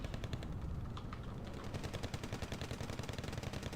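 Machine gun fire in a war strategy video game, rapid rhythmic bursts of shots at a distance, fairly quiet and continuous, with no talking.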